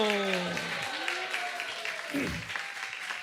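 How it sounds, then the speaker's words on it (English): An audience at a spiritual talk gives a round of applause, a soft, continuous wash of clapping heard somewhat distantly beneath a chanting voice and some crowd sound. "please give a big round of applause to His Grace Gauranga Darshan Prabhu"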